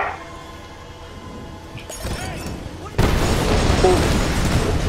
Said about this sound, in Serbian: Koja je eksplozija